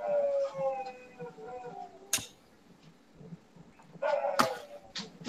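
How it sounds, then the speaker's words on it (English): Several dogs at a house howl and bark in drawn-out, wavering cries with sharp barks breaking in, heard from a little distance, some indoors noise around them. "The dogs are barking."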